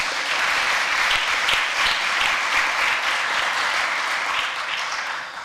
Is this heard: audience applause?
yes